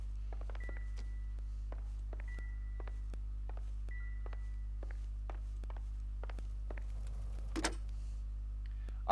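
Rotary telephone dialing in a 1940s Los Angeles detective game: a series of faint clicks and short ticking runs over a low steady hum, ending with a louder clunk of the handset.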